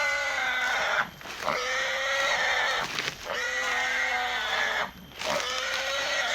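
Pigs squeal loudly and repeatedly in long, strained cries with short pauses between, close by and without talk.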